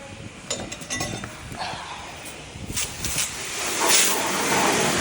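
Steady high-pressure water hiss from a car wash rinse wand spraying a Honda Prelude, with a few clinks and spatters mixed into the constant spray.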